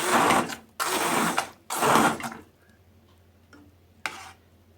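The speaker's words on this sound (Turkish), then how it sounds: "El blenderıyla sıcak sıcak iyice el blenderıyla eziyorum" Hand blender mashing hot boiled dried beans, three loud whirring bursts of about a second each in close succession, then quiet with one short faint knock near the end.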